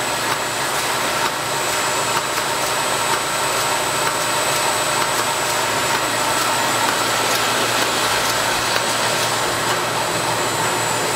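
A Kundig 53-inch Brilliant duplex wide belt sander runs with its oblique sanding heads oscillating, giving a steady, loud broadband roar and hiss of machinery that holds unbroken from start to finish.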